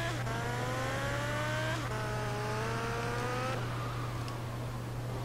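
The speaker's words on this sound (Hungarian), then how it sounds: "Na, ilyen egy rendes motor." A motorcycle engine in Grand Theft Auto: Liberty City Stories revs up in repeated rising sweeps, climbing, dropping back and climbing again over a steady low hum, then settling into a fainter whine.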